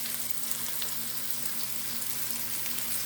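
Mushrooms and onions fry in a skillet, alongside Beyond Burgers, with a continuous dense crackling sizzle over a low steady hum, no voices.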